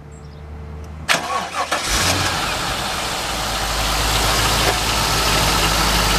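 A Corvette engine fitted in a 1966 Chevrolet rat rod truck cranks briefly after a second of quiet, catches, and settles into a loud, steady, rumbling idle close by.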